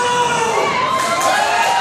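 A small crowd of about 120 fans at an independent wrestling show cheers and shouts loudly and continuously, a dense roar of mixed voices with some high-pitched yells.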